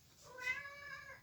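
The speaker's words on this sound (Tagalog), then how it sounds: "Ano yung pusa ko? Umiiyak." A house cat cries with a single drawn-out meow, rising then falling, close and fairly soft over a low background hum.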